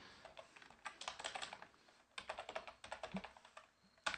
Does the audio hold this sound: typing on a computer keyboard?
yes